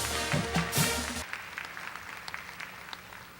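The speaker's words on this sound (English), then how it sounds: "let's have another round of applause for our student athletes from North Garland High School" A school auditorium crowd applauds student athletes from North Garland High School at a Garland ISD signing day, a burst of clapping for just over a second before it dies away into faint room noise and scattered sounds.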